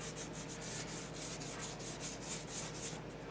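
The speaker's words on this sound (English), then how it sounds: "220 grit sandpaper" 220 grit sandpaper rubs over a shellac finish on an old wooden school desk in quick, even back-and-forth strokes, a soft steady scratching with no voices.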